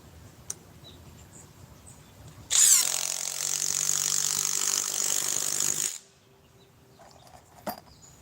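A battery-powered saw with a 4 amp edge and 21700 tabless battery, set to speed 3, cuts through 4-inch timber logs in one loud, steady burst of about three and a half seconds, with quiet before and after.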